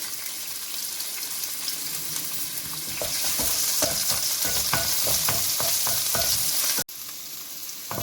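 Chopped ginger and garlic fry in hot oil with cloves and curry leaves for a mutton chops gravy. A loud, steady sizzle is broken up by scraping stirs, and the sound briefly cuts out near the end.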